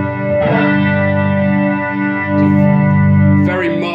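Electric guitar played through a slowly rotating Leslie speaker, driven by a Peavey Valveking 20-watt amp and pedal board, sustaining steady chords with a mild, gently swirling chorus-like shimmer, loud and close, with a brief pick attack near the end.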